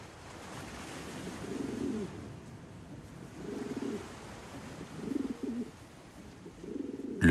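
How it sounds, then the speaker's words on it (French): Rock pigeons cooing on the rocky Sardinian coast, four soft low coo phrases spaced a second or two apart over a steady wash of surf, with no voices. "Sur la côte sarde, ces pigeons des rochers ont gardé leur forme sauvage d'origine."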